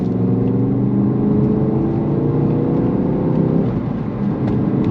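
Ford Focus RS hot hatch engine accelerating hard, a loud, steady rumbling roar with rising pitch that builds across the clip, close and continuous with no talking.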